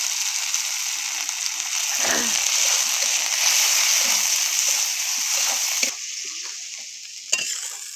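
A spice paste with turmeric powder and a little water fries in oil, making a steady close sizzle with scraping stirs of a spoon, softening slightly near the end.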